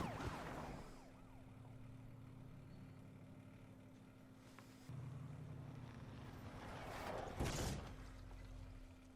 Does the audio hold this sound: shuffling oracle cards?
no